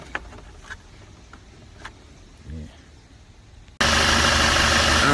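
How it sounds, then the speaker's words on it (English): A VW Passat engine runs during work on its cooler line O-ring seals, starting as a faint low hum with scattered clicks, then suddenly jumping to a loud, steady, close roar for the last second and a half. "this is where the engine making a lot of noise right now"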